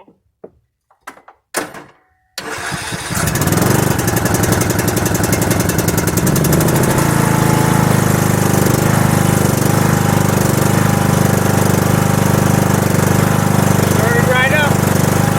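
A small engine, likely a mower or similar machine set in choke and neutral, cranks after a few knocks and thuds, then starts and settles into a loud, steady running drone close by, jump-started with a VTOMAN X3 jump starter.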